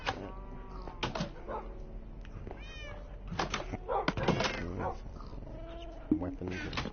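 A cat meowing in a PS4 video game, with a pitched, wavering call heard under steady talk and game sounds.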